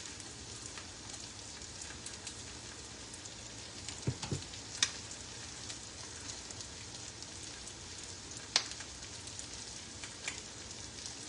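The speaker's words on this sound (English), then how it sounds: "Just let those eggs cook for a little bit." Eggs fry in a pan for a gluten-free breakfast hash seasoned with Ragin' Cajun, giving a soft, steady sizzle like light rain, with a few faint pops and clicks scattered through it.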